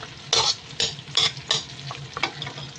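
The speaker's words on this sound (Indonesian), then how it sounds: "Dan berambang merah sama miri sama bawang putih digoreng dulu ya" Shallots, candlenuts and garlic fry in hot oil, a soft steady sizzle broken by about six scraping stirs of a spatula against the pan, close up with no voices.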